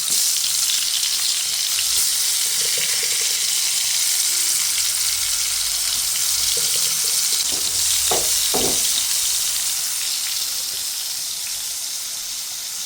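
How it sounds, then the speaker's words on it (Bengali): Eggplant slices frying in hot oil in a home kitchen, with a steady loud sizzle and crackle running throughout, easing slightly toward the end, with a few faint clinks and no talk. "তেল মনে হয় অলরেডি গরম হয়ে গেছে এখন আমি বেগুনের মধ্যে দিয়ে দিচ্ছি"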